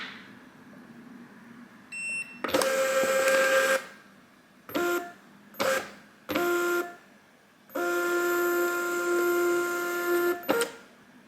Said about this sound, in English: press and hold this down until I hear a beep, and that will calibrate where the stickers need to be inside the printer